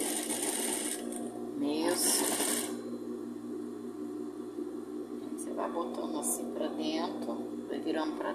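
A sewing machine hums quietly and steadily while reverse stitching fabric scraps for a patchwork bathroom set, underneath someone talking throughout.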